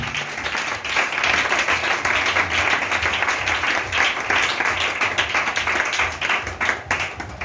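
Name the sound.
congregation applauding in church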